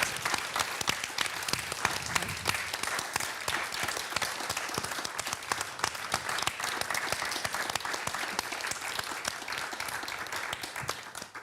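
A crowd at a university inaugural lecture applauds two professors with dense, continuous clapping that stays loud and even for over ten seconds before tapering off at the very end.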